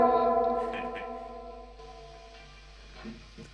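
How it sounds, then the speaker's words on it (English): An electric guitar rings out through the reverb of a Fender Tre-verb amplifier, a loud chord blooming into a wash of echoing tail that fades, then a few softer plucked notes. "So let's hear the reverb effect now."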